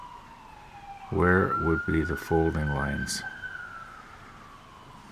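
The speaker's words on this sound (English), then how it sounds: "I hear a siren going." An emergency vehicle siren wails steadily outside, its long rising-and-falling tone carrying through the whole moment at moderate distance, with someone speaking over it in a quiet room.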